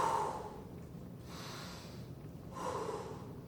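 Slow, deep breaths drawn in and let out during a hamstring stretch in a HIIT fitness class, soft and close, with two or three audible inhale-exhale swells.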